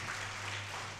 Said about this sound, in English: Today you need to give a good exercise for your hands, that is by clapping your hands